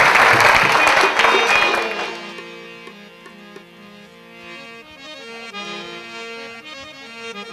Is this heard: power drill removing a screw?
no